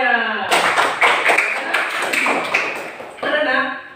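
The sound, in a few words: applause for everyone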